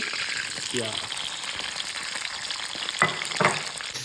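Hot oil sizzles with a steady frying hiss in a pan, waiting for onion, with a few light clinks and a faint voice in the background.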